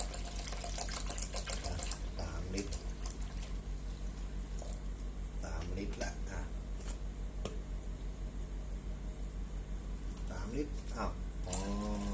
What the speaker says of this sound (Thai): ตอนนี้ผมจะเติมน้ำให้หมดครบหกลิตรเลย